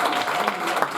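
Brief burst of applause from a church congregation at a special Mother's Day service, a dense, steady patter of clapping lasting about a second.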